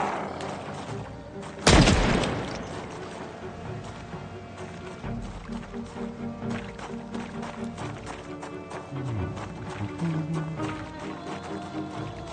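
Gunfire in Project Zomboid, one loud sharp shot with a booming tail early on, followed by a steady run of quieter rhythmic thuds and clatter under background noise.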